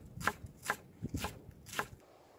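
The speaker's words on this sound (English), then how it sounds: "So just a fine chop for your onions." Onions being finely chopped with a knife on a board, four or five crisp, well-spaced blade strikes with a couple of softer taps in between, close but fairly quiet, no talking.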